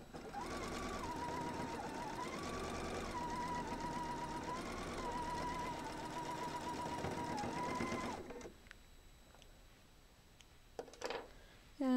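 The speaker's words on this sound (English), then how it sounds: "So going to sew on my next triangles." A sewing machine runs steadily for about eight seconds while stitching fabric triangles for a square-in-a-square quilt block, then stops, leaving a quiet room with a few small clicks.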